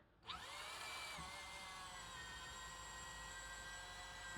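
Drill machine running as part of a DC motor test rig lighting three bulbs, a steady high-pitched whine that spins up after a brief start and holds evenly, fairly faint, with a click at the end.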